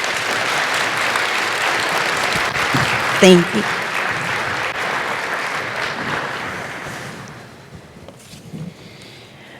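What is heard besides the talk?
audience applause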